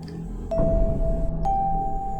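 A notification bell chimes twice, each a bright sustained ring, clear and close over a soft background.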